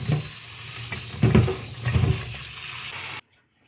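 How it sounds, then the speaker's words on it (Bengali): Green beans are rinsed under running tap water in a home kitchen, a close splashing gush with soft rustling as the beans are moved, stopping abruptly near the end. "প্রথমে বিনসগুলোকে ভালো করে ধুয়ে নেব।"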